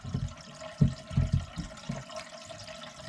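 Water drains out of a bathroom basin with a patent overflow and a slow drain, gurgling and glugging in uneven bursts close by, with no voice over it.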